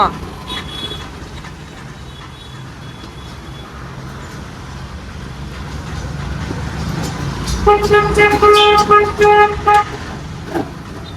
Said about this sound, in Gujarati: આ ટ્રાફિક કેમ દર વખતે વધતું જાય છે?